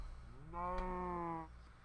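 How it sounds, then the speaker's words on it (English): A mushroom cow in a Minecraft modpack game lets out a single drawn-out moo, clear and fairly close, lasting about a second against a quiet background. "A mushroom cow."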